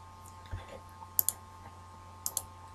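A computer mouse clicks while drawing a section view in Solid Edge CAD software: two quick double-clicks, crisp and fairly near, over a low, quiet hum.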